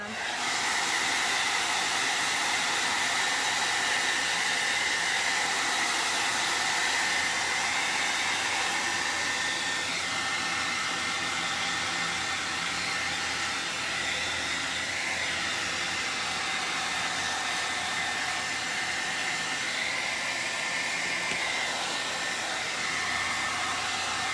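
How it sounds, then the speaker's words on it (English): A hair dryer blows steadily with a loud, continuous hiss that holds level throughout, with no talking. "let me just hit this with the hairdryer one more time"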